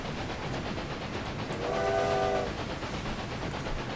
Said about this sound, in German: Kann man durch Telepathie die Lok hupen lassen?